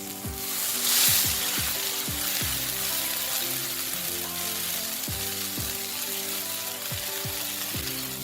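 Aromatic spice paste frying in about two tablespoons of oil in a pan over a medium flame, with a continuous close sizzle and repeated scraping stirs at an irregular rhythm, while a quiet tonal hum runs underneath.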